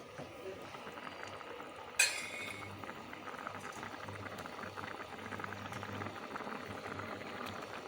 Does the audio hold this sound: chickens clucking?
no